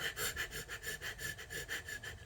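A voice imitates the laboured breathing of a sick father lying in bed, a steady run of about eight rhythmic, raspy breaths, close and fairly quiet, with no words spoken.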